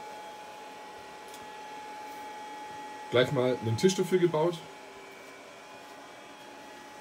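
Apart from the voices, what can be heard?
3D printer running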